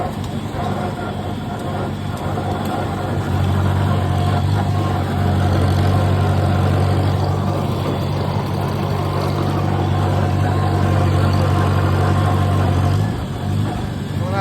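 An IH Farmall 140 tractor running in second gear while brush hogging with a 5 ft brush hog, giving a loud, steady low engine drone that holds almost unbroken throughout.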